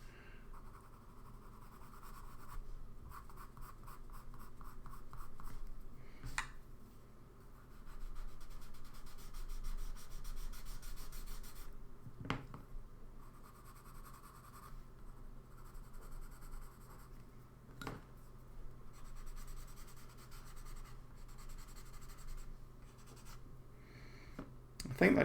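Graphite pencil shading softly across drawing paper, a quiet continuous scratchy rubbing in short strokes with occasional light taps and pauses.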